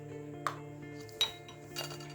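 A metal teaspoon clinks against a bowl while sugar goes into yeast, making a few quiet, bright taps spaced apart over a faint background hum.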